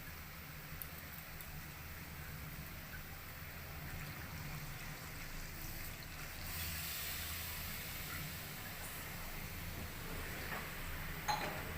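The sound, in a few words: water poured onto sautéed chicken, hissing steam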